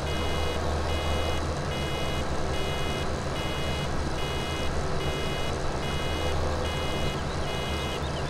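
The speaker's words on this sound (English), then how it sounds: "that beeping noise is literally the most annoying beep I've ever heard" A vehicle in Farming Simulator 17 sounds steady, evenly spaced reversing beeps over a constant engine drone, loud and continuous throughout with no talking.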